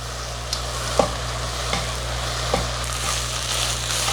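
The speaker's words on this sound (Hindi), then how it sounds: "इस तरह से डालेंगे और इसको फिर भून लेंगे अच्छे से" Chicken coated with all-purpose flour sizzles in a pan and is stirred, with a few distinct spatula knocks and scrapes over a continuous frying hiss and a low steady hum, close and clear.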